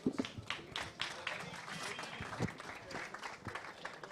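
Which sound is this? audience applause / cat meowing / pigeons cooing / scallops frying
audience applause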